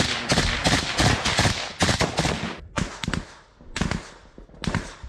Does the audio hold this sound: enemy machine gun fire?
yes